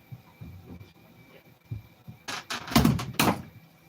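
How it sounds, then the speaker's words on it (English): Police force a door open: after a few dull knocks, several loud heavy bangs and crashing thuds come in quick succession, close and forceful. "You've broken the door."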